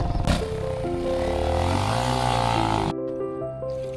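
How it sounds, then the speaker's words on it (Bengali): A motorcycle engine revs loudly and close as the bike is loaded onto a river boat, its pitch rising and wavering for a few seconds before easing to a lower idle. "আমরা এখন এই যে মোটরসাইকেল এই নৌকাতে উঠাইলাম।"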